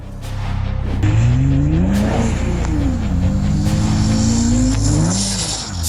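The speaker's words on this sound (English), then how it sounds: "Sliding like that in the snow feels amazing." A Maserati supercar slides through snow with its engine revving loud and close, the pitch rising and falling as the car slides and regains grip, carrying on steadily for several seconds.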